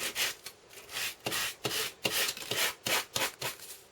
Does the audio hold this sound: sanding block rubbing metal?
yes